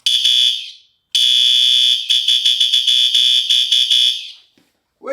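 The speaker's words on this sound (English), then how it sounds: "So the current alarm slash horn that I have is, as you can see and hear, a System Sensor Spectral Alert Advanced." A System Sensor Spectral Alert Advanced fire alarm horn blares close and loud in a harsh buzzing tone, first one blast, then a long one breaking into rapid pulses before stopping.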